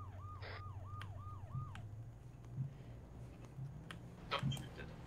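An ambulance siren in a video game wails in a repeating rising-and-falling sweep at a moderate distance, followed by scattered clicks and thuds, with no voices heard.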